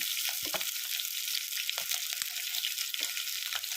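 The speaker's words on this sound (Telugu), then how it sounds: "ఆలు బంగాళదుంప అంటే మామిడికాయ ఆలు మామిడికాయ రెండు వేసాను" Potato and raw mango pieces fry in hot oil for a sambar, crackling in a dense, bright, continuous sizzle up close, with occasional low stirring knocks and scrapes of a utensil and no one talking.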